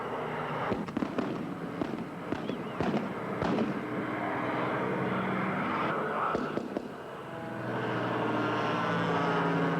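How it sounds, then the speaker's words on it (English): Propeller warplanes, including a P-51 and a Zero, drone overhead amid sharp bursts of gunfire and explosions, a busy, loud battle din throughout. "Overhead, American planes continue in battle."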